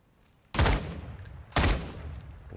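Two loud gunshots fired a second apart in the video game Modern Warfare 2, each a sharp close blast with a booming decay and no talking.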